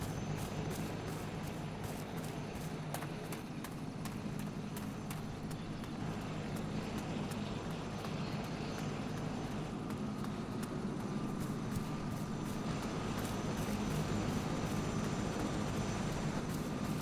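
A helicopter on a scenic flight over the Lahaul and Spiti loop produces a steady, loud rotor and engine drone with a rapid rhythmic chop, continuous throughout.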